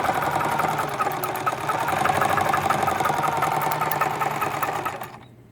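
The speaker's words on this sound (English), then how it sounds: "So my next thing is just to thread it and see if it stitches correctly." A Necchi 3101 sewing machine runs steadily, stitching in a fast even mechanical whir with rapid needle clatter, loud and close, stopping abruptly near the end.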